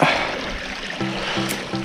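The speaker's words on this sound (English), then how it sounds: "the whole face of this is all just waterfall that comes down" Water from Geary Falls spills down a rock face with a soft, steady splash and trickle, up close and alone, with a few brief low hums breaking in.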